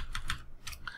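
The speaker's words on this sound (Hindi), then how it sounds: "आकृति ओरी हिमाद्री कीबोर्ड रे एंटर मार देली" Close computer keyboard typing, four or five distinct key presses in quick succession including the enter key, crisp clicks with no voices.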